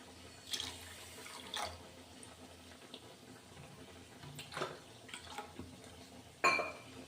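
Water poured into a bowl of sugar, one bowl of sugar to two of water, to make syrup for langcha sweets: a faint, intermittent splashing and trickling with a few brief pours and a sharper clink near the end, no talk.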